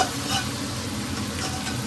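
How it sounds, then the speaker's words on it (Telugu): Chicken fry sizzling steadily in a pan, a dense, even frying hiss with faint stirring, close and continuous, no voices. "ఇటు సైడ్ చికెన్ ఫ్రై, వేపుడు అనమాట."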